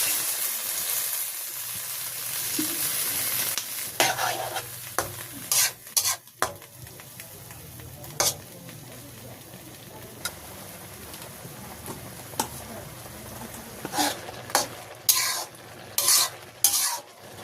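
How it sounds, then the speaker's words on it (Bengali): Fish frying in a pan of jute leaf curry in a village kitchen, with a steady sizzle and repeated sharp scrapes and clanks of a spoon stirring against the pan, alone and close. "দিয়ে দিচ্ছি মাছ, দিয়ে দেবো জল একটু।"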